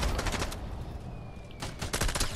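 Rapid gunfire in the video game Fortnite, with dense, close bursts of automatic shots rattling almost continuously across a couple of seconds.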